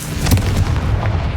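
The Confringo fire spell is cast in the Hogwarts Legacy video game, a loud booming blast with crackling bursts layered over a continuous low rumble, with no talk.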